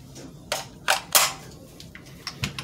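A RIA VR80 shotgun firing during break-in at a shooting range in San Leandro: several loud, sharp cracks, three close together and then two more after a short pause, heard close up.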